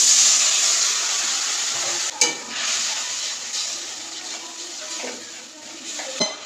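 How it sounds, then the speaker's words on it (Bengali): Water splashes into a pan of frying spice masala for a broccoli curry, starting as a loud hiss that settles into a quieter sizzle, broken by a few clinks. "এর মধ্যে দিয়ে দিচ্ছি হালকা করে জল"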